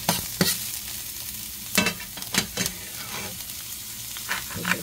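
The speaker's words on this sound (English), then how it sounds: "now we're gonna drop in our onions. And it's gonna go shh." Onions dropped into a hot pan for homemade tacos and seasoned with salt, frying in a steady soft sizzle, broken by several sharp stirring scrapes, with no talking.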